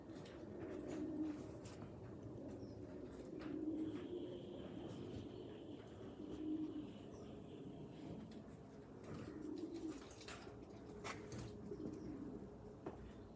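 Soft, low racing pigeon coos repeat every few seconds, quiet and nearby, with faint clicks and rustling in the background.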